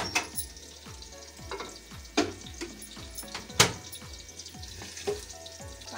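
Onion, garlic, ginger and tomatoes fry in a pan with a steady crackling sizzle, stirred now and then with sharp scraping clicks and a few louder spatters, close and clear with no talking.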